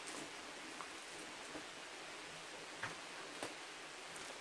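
Soft, steady rain of the rainy season falls outdoors near a bonsai garden, a faint, even hiss with a few scattered drop taps standing out.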